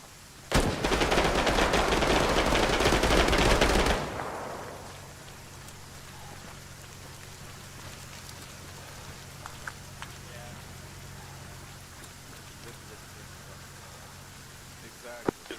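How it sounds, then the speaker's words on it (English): Video-game gunfire in an Arma combined-arms battle: a loud, dense burst of sustained automatic fire lasts a few seconds, then drops away to a quieter backdrop with a low hum and a few scattered distant shots. "Gunfire northeast."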